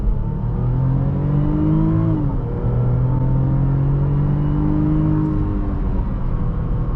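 A Range Rover SUV engine pulls hard while driving, its low rumble rising steadily in pitch under constant road and wind noise, loud and close throughout with no talk.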